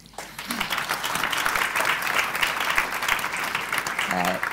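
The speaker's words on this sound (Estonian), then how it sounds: "teeme iseendale suure aplausi" A conference audience in Estonia claps for itself at the closing session, a dense, even roar of many hands that fills the room from start to finish, with a brief voice surfacing near the end.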